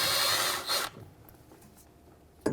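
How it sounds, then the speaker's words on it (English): A 12mm socket loosens a banjo bolt on the rear brake caliper of a 2011-2014 Hyundai Sonata, heard as a loud, close burst of buzzing tool noise that stops abruptly, then quiet and a final sharp knock. "take the old caliper and let's remove the banjo bolt"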